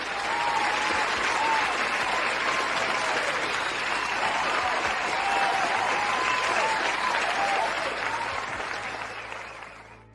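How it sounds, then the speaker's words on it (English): A round of applause from a crowd, dense continuous clapping that holds steady and then tapers off toward the end. "Let me give you a round of applause as well."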